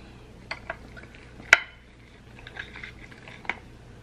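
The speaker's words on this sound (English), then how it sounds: "Let me cut this steak." Cutlery scrapes and taps against a plate while a ribeye steak is being cut, a few sharp clinks standing out over a quiet room tone, close and fairly soft.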